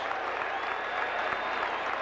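A large baseball stadium crowd at a playoff game between Oakland and Boston cheers and claps steadily, a dense wash of applause and voices with no pauses, filling the whole stretch.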